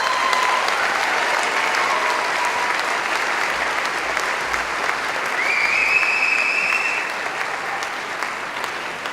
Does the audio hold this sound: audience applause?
yes